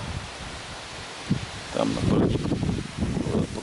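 Strong gusty wind outdoors during field radio operation buffets the microphone and rustles nearby, rising into a rough, swelling roar after a quieter start.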